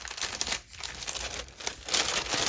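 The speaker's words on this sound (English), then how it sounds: "I'm going to pull off and save that washi tape" Washi tape is peeled off a paper-wrapped pack, giving close, continuous crinkling and tearing rustle with brief pauses, with no talk.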